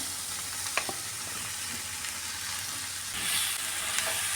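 Chopped raw banana with softened onions sizzles gently in a pan for a coconut stir-fry, with a few scattered stirring scrapes and clicks over a quiet, even frying hiss.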